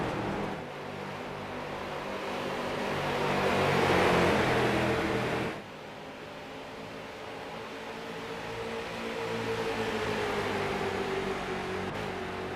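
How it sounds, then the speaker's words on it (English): A street stock car in a short-track race, its engine bobbling and sputtering as it runs short of fuel, within a steady roar of racing engines that swells as cars pass close by, then settles into a constant drone. "I think I just heard a car start bobbling for fuel"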